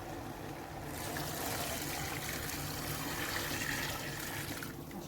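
Heated water poured into a pot over chicken, making a steady, close rush of liquid that runs for several seconds and fades briefly near the end, with no talk.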